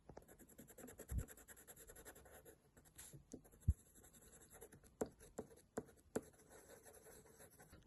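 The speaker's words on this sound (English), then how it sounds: "I'm gonna use a pencil to fix it." A pencil scratches over paper while shading a zombie drawing, close and quiet, with soft continuous strokes broken by a few sharp taps.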